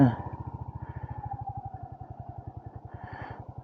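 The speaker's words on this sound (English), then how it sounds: "So, first ride on a Royal Enfield Hunter." Royal Enfield Hunter 350 motorcycle on its first ride, a close, steady thumping single-cylinder exhaust pulse with a gently varying engine tone, alone without talk.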